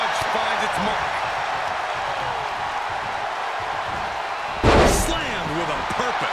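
A wrestler crashes onto the ring mat in a single heavy, booming slam midway through, rising out of a steady crowd roar, with commentators talking throughout.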